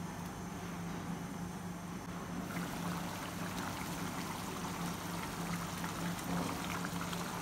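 Mutton kurma simmers on a low flame in a home kitchen, giving a faint, steady bubbling and hiss that grows slightly busier partway through, with no talking.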